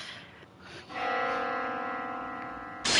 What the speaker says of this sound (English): The sound of a bell suddenly echoes in my mind.